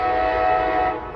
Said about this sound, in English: here comes Amtrak Capital Corridor train